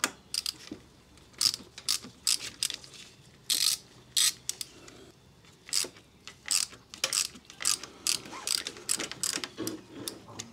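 A ratchet loosens the lower fork bolts on a Harley-Davidson Low Rider ST. Short bursts of fast metallic clicking come close by, separated by brief pauses, with no talking.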